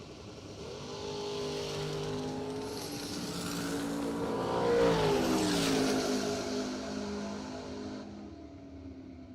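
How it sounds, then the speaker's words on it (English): Turbo dragsters racing at a bracket drag race, a steady engine drone that climbs in pitch and swells loudest around the middle before fading off, with no talking. "Turbo Dragster."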